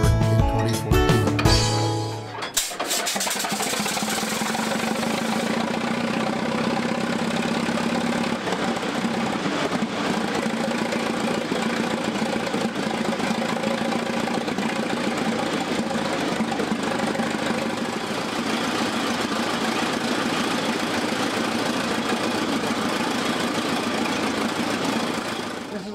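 An old 1917 Holt 45 tractor engine idles steadily with a rough, knocking chug after a brief rumble at the start, loud and close with no talking.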